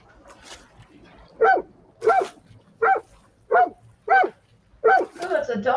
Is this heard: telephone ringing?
no